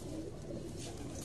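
Pigeons coo on a rooftop, a low murmuring burble that is faint and continuous over steady outdoor background noise.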